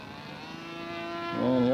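Scale model aircraft engine running before takeoff, a steady droning tone that rises and swells louder toward the end as the engine revs up, heard alone.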